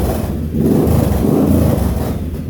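Triumph Bobber motorcycle with a custom exhaust built from old Norton pipes kept unmerged in an X-pipe layout, revving loud and close in a deep raspy burst that swells and holds.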